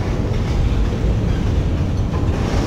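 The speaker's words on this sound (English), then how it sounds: "it's nice that these trains slow roll through right here." Union Pacific freight train rolling slowly past on the Northwest Corridor between Portland and Nampa, a loud, close, continuous low rumble and rolling roar of wagons.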